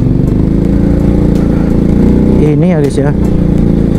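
A Honda Supra X motorcycle engine hums loudly and steadily while riding and turning, with a brief revving swell near the end and someone talking close over it.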